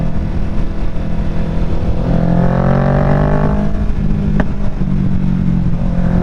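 A Kawasaki Ninja 650 engine drones steadily on a mountain road, the pitch rising and swelling while it overtakes other riders, loud and close throughout with wind noise and no talking.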